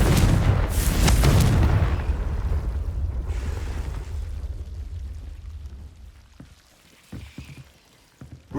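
Confringo spell explosion in Hogwarts Legacy, a loud booming blast at the start that rolls into a long fading rumble, followed by a few quieter thumps.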